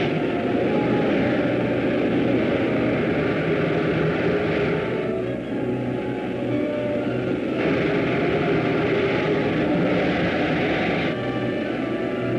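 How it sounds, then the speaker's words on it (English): Rocket ship main jets firing, a steady, loud broadband roar that holds without a break, with slight shifts in tone as the thrust continues. "Fire main jets."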